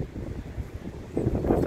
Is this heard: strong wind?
yes